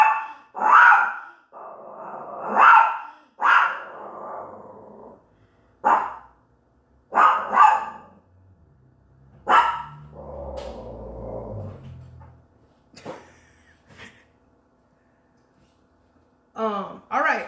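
A dog barks repeatedly at close range in sharp, loud bursts with gaps between them, mixed with lower growling and whimpering, and a brief high yip near the end.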